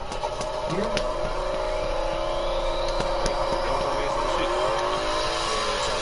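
Engine of a red 240 race car in a basketball video game, NBA 2K21 MyTeam, droning steadily with shifting revs throughout, accompanied by sharp clicks and faint background chatter.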